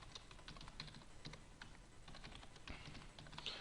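A computer keyboard is typed on at a steady pace while a new password is entered during a first sign-in to Office 365. The clicks are faint and close, with no voices.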